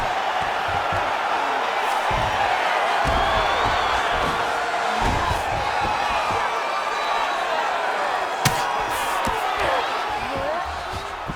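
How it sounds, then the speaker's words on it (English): Crowd roaring and cheering at a women's UFC bout, rendered in a video game, a steady loud wash of noise with whoops and a sharp slam near the end, under continuous commentary. "The crowd's going crazy because they just saw two high-level grapplers"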